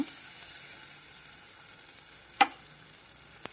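Bilimbi fruit fries in a pan for a Goan curry while being mixed. The sizzle is faint and continuous, with one sharp utensil knock partway through and a soft tap near the end.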